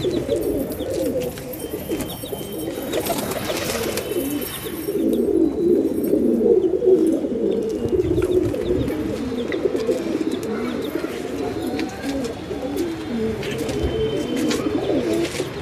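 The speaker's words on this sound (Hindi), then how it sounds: "अभी दोस्तों मैं कबूतर को रोटी खिलाऊंगा" Pigeons coo on a rooftop, a continuous overlapping chorus of low throaty coos with occasional small chirps, close and steady throughout.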